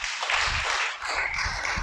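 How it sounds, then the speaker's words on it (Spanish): A brief burst of clapping from a small gathering at a religious Torah teaching, close and moderately loud, lasting under two seconds. "Dale un aplauso al Creador."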